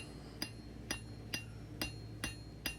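A blacksmith's hammer strikes hot steel while drawing out a taper, six regular, moderately faint blows about half a second apart with a light metallic clink, over a low steady background hum.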